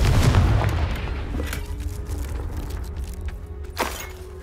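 Confringo fire spell in the Hogwarts Legacy game, a loud, close explosive blast at the start that rolls into a rumbling decay, with a sharper burst near the end.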